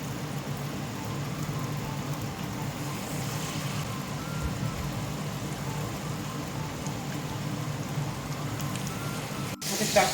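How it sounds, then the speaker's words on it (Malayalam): Batter-dipped stuffed ripe jackfruit fries in hot oil with a steady, dense crackling sizzle held at an even level throughout. "ചക്ക വറക്കാനിട്ട് നോക്കിക്കേ,"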